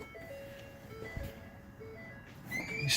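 A car's key-in-ignition warning chime, a steady high tone sounding repeatedly over a low engine-like rumble, fairly faint and with no voices.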